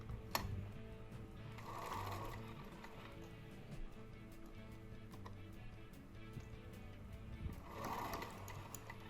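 A domestic sewing machine stitches over a bulky, flattened seam on a plush gnome toy, a steady quiet mechanical whir with light ticking, faint and close, running throughout without speech.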